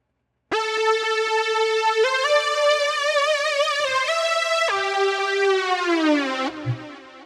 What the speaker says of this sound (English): Today I'm going to show you how to synthesize a big unison lead that sounds